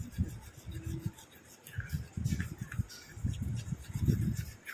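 A creamy homemade face pack is stirred with milk in a bowl, giving soft rubbing, scraping strokes that repeat in uneven bursts, close and fairly quiet, with no talking.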